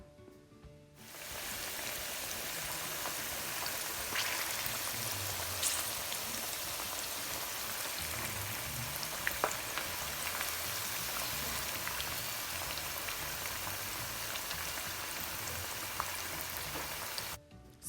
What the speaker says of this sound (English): Just listen to how you hear my pot bubbling up.